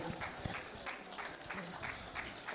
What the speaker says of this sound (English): Let's give a round of applause to the Honorable